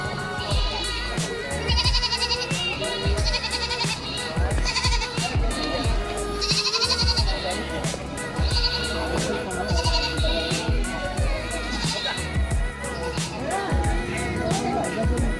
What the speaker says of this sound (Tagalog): Magkano po ipinagbibili itong kambing?